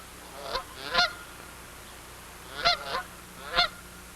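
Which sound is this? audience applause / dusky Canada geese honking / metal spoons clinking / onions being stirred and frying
dusky Canada geese honking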